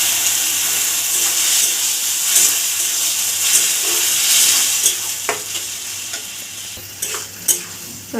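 Masala stir-fried in a pan for Odia fish head daal with cabbage, a steady loud sizzle and hiss with occasional scraping stirs and clicks of the spatula toward the end.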